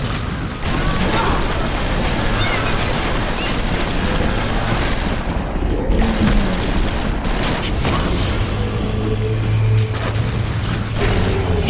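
Continuous mechanical clatter and rattling bursts of armor-piercing gunfire in BioShock, steady and loud for the whole stretch, with creaking metallic ratchet textures and low booming underneath.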